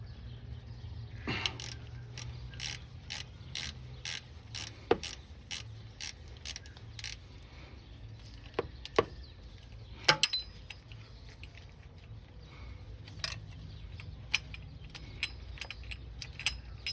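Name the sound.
ratchet loosening 14mm serpentine pulley bolt, Toyota V8 engine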